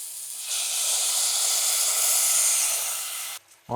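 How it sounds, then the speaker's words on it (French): White wine is poured into a hot pan of chopped cauliflower for risotto, setting off a loud, continuous steamy sizzle and hiss that lasts about three seconds before cutting off abruptly. "on déglace vin blanc"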